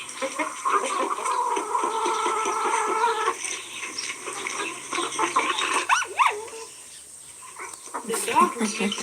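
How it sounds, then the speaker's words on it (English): A dog near chickens yips and whimpers in short bursts, with people talking over it in an outdoor yard. "The dog is making them nervous."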